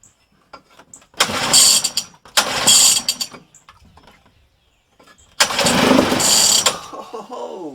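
Repeated cranking bursts of a 1969 Clinton J-9 small engine, three loud mechanical pulls about a second each with gaps between, close by and with no voices.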